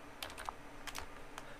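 Keys on a computer keyboard click in short, quiet bursts, a few quick taps at a time with brief pauses between them.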